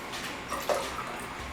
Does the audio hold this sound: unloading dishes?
no